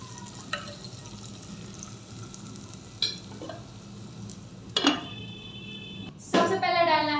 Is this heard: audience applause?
no